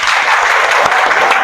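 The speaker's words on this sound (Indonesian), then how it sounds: "Tepuk tangan dulu." Dense, steady applause from a crowd gathered at an education coaching event, sustained and loud throughout with no break in the clapping.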